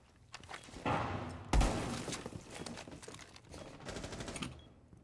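Automatic gunfire in Rainbow Six Siege, a video game, with sustained rapid bursts rattling across the clip, one sharp loud report near the middle and a further burst near the end.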